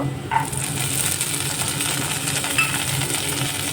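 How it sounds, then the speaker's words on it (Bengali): Onion and peas frying together in a pan for Bengali-style chirer polao, a steady, dense sizzle throughout with occasional scrapes of a stirring spoon, close and fairly loud. "পেঁয়াজ দিয়ে দেবো, একসঙ্গে ভেজে নেব"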